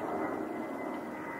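Airplane flying overhead near a football pitch, a steady distant engine drone, moderately faint and unbroken through the brief moment.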